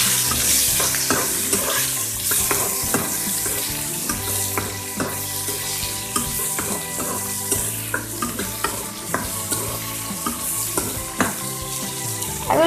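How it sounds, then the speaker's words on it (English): Green chilies and onions frying in hot oil, a dense continuous sizzle with frequent crackles and stirring scrapes, close and loud, no talking. "So when the oil is hot enough that I will pop into the green chilies and the onions into it"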